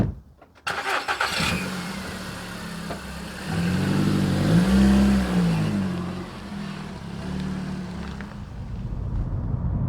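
A Volkswagen Golf Mk5 family car runs steadily on the road, its engine hum swelling mid-stretch as it pulls, then settling into a continuous drone with tyre and road noise, close and without talk.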